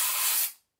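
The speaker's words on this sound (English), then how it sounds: "I just spray it" One short burst of an aerosol spray product applied to a dark smoke grey synthetic wig, a close, bright hiss that lasts about half a second and then cuts off into silence.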